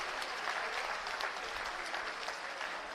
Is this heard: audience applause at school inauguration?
yes